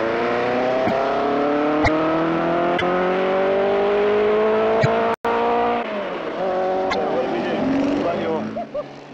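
A rally car at the 1976 Scottish Rally, fitted with a production axle and BDA gearing, accelerates hard, its engine note climbing steadily and loudly through the gears with brief pops, while someone talks over it.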